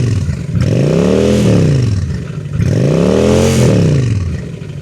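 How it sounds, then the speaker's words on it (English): A Honda Shadow 750 Spirit cruiser motorcycle with its stock exhaust idles, then rises and falls in two loud, close revving swells with a rumbling exhaust note. "The exhaust has a decent exhaust note."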